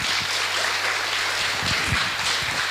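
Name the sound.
audience applause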